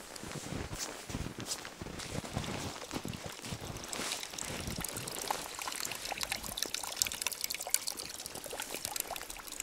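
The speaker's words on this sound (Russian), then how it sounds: "горного источника освежающей воды, чтобы утолить жажду" Mountain spring water in a snowy winter forest of the Tyrolean Alps, Austria, pours and trickles steadily at close range, a continuous splashing flow with no voices.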